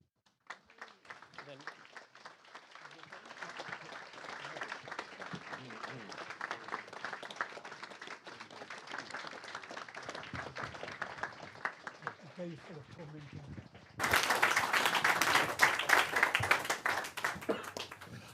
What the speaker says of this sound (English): Please give a very, very warm round of applause to your panel and your host, Michael Gove.